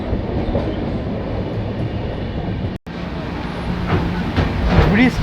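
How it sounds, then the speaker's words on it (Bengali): The Uttarbanga Express runs across the Mahananda bridge in heavy rain, a continuous close rumble and rattle of the carriage with a brief dropout partway, growing slightly louder toward the end. "বৃষ্টির মধ্যেই ট্রেন মহানন্দা ব্রিজ পার করছে"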